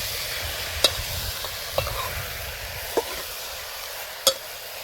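A stuffed brinjal curry is stirred in a pot over a wood fire: four sparse, sharp scrapes of the spoon against the pot ring out over a steady low hiss, with no talking.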